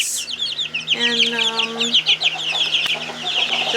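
Young chickens cluck and peep close by, a soft clucking run with bright chirps layered above, while a person talks quietly in the background.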